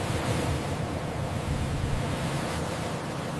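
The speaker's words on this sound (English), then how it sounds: "The axe bow cuts the waves like a knife." Axe-bow hull of a $500 million yacht slicing through open ocean waves at speed, heard as a steady, loud rushing wash of spray and water with wind noise, continuous throughout.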